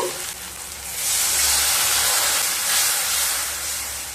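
Spice paste for kochur loti with hilsa head frying over low heat in a pan with a splash of water, giving a steady close hiss and sizzle that swells after the first second and holds.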